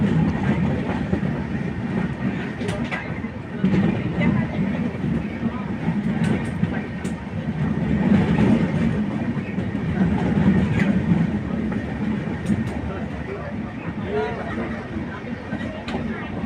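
A train rumbles steadily along the rails with a constant low drone and faint clatter as it pulls into Guwahati railway station, a voice talking over it throughout.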